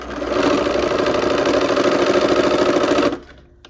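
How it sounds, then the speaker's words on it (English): A sewing machine stitches a quilt block in a fast, steady mechanical whir, loud and close for about three seconds before stopping abruptly, leaving a faint hum. "This is a fun one to sew too"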